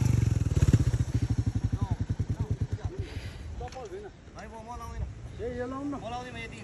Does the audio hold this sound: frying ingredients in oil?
no